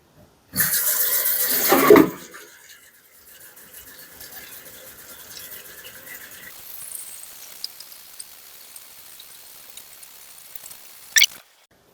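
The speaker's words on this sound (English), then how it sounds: "Let's get a pot filled up so we can get the bagels boiling." Tap water running into a pot for boiling homemade bagels, a loud gushing burst at first that settles into a steady, softer stream filling the pot, ending with a brief sharp clink.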